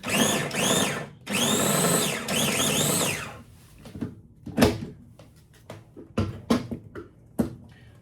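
A food processor or blender pulses to dice ingredients including lemon: three loud whirring bursts in quick succession, followed by quieter knocks and clatters of the bowl and lid.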